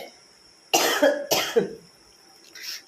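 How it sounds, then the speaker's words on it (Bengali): Two harsh coughs from an adult woman, close and loud, the second following the first after about half a second, then a fainter throaty sound at the end. "জানি না কেন কাশি উঠছে"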